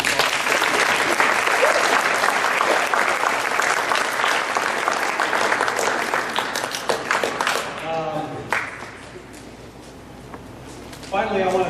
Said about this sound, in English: if you don't mind giving a round of applause